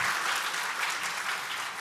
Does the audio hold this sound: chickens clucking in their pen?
no